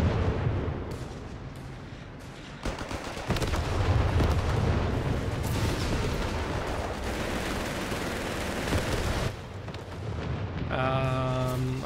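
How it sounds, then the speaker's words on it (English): Artillery fire in a video game battle, a dense rolling barrage of deep booms and gunfire rumbling continuously, with loud swells and brief lulls. "Just standing here in all this artillery."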